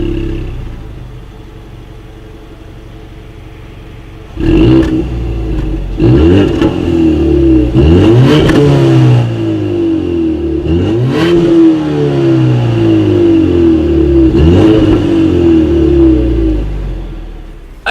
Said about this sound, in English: dual exhaust outlets with chrome tips, so you guys know what we have to do next. As always, here is that exhaust clip.